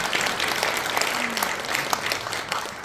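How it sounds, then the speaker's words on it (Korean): A seated audience at a health talk on immunity and vitamin therapy gives a burst of applause for a participant, with dense, continuous clapping close by throughout and no speech over it. "우리 웅녀 이분한테 박수 좀 드리겠습니다"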